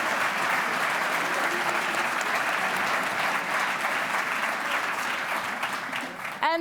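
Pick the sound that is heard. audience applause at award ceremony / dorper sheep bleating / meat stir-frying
audience applause at award ceremony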